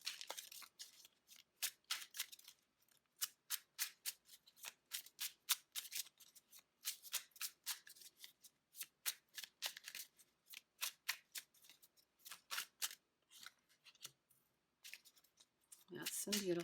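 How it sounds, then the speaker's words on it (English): Rapid, crisp tarot card shuffling repeats in quick riffling bursts, steady and close, with a brief soft voice near the end. "I'm going to be shuffling for a bit here"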